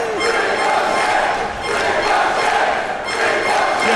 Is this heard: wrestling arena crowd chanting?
yes